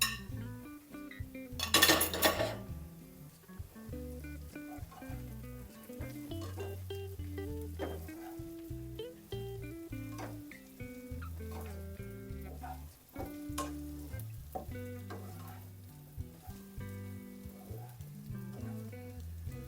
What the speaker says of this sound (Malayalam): ഇനി അതിനകത്തോട്ട് ഈ ഫ്രൈ ചെയ്ത് വെച്ചേക്കുന്ന ബീൻസ് അങ്ങോട്ട് ഇട്ട് കൊടുക്കേ